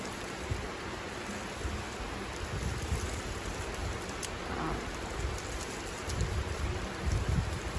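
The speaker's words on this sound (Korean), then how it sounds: "근데 빗소리가" Steady rain falls outdoors around a plant nursery, a dense, continuous hiss of drops on surfaces with soft low patter throughout and no voices.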